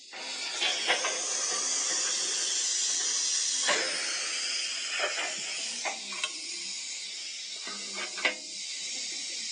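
Water stop sound effect from a Bachmann EZ App ALCo 2-6-0 Mogul model locomotive: a steady, loud rushing hiss of water and steam with intermittent clanks and knocks throughout, alone.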